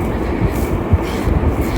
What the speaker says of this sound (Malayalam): ഇത് വേറൊരു ട്രെയിൻ അതിൻ്റെ അപ്പുറത്തോടെ പോകുന്നുണ്ടോ?